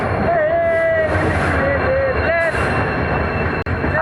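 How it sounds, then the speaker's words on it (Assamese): A train passes loudly and close, with a constant rumbling roar and intermittent whining, squealing tones riding over it, briefly dipping near the end. "ট্ৰেইন আছি ট্ৰেইন আছি।"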